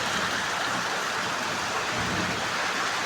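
Heavy rain falls in a dense, constant roar of drops on surfaces, loud and close and unbroken throughout, with no voices.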